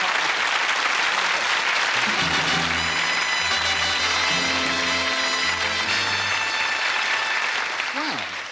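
A studio audience at a magic show gives a warm round of applause for a volunteer, a dense, loud wall of clapping under music, fading near the end as a voice begins.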